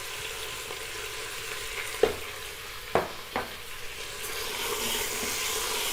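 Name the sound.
onion added to mutton, frying and stirring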